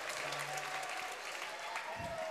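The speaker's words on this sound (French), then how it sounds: "Qui fait descendre quelques applaudissements de la salle Pierre du Coubertin." Scattered applause from the crowd in the Salle Pierre de Coubertin during a team fencing event, soft and distant, a faint wash of clapping under light background noise.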